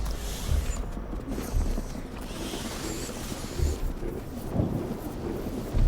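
Steady rain hiss with low rumbling thunder in the game Mind Over Magic, a continuous wash of weather with no clear talk over it.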